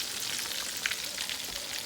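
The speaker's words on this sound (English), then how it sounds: "so I have some beautiful sizzling going on" Chicken cordon bleu and chicken cutlets fry in a pan, a steady close hiss of sizzling oil with small crackling pops throughout.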